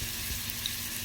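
Potato wedges fry in hot oil with a steady, close hiss of bubbling and sizzling and no voices.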